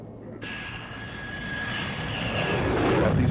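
A returning military aircraft, part of a fleet of bombers and tankers, drones steadily overhead with a constant engine roar and a thin whine, slowly growing louder.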